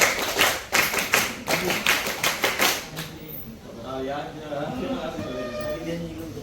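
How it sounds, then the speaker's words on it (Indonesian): A Scout clap pattern of double and single hand claps comes from a group clapping in a quick rhythm for about three seconds, then voices talk. "tepuk ganda, ganda, ganda, tepuk tunggal, tepuk pramuka"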